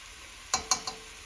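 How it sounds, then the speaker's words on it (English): A spoon stirs okra with dry spices in a pan, three quick scraping clinks against the pan over a faint quiet background. "while I'm stirring this, I'm going to go ahead and put all the dry spices in it"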